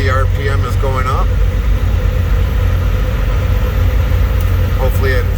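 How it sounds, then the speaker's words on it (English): A parked diesel truck running a requested parked regen, its engine a loud, steady low rumble with the RPM climbing, while a person talks over it. "We're going to do a request park regen. And as you see, the RPM is going up."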